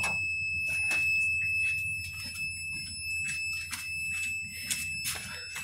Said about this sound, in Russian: Воздух пищит, потому что я ногами там